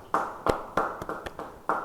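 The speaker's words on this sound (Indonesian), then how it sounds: "Yang percaya beri tepuk tangan bagi Tuhan." Church congregation at an Indonesian Bible study clapping in loose, irregular single claps, about six sharp hand strikes spaced unevenly across a couple of seconds, fairly close and thin rather than a full ovation.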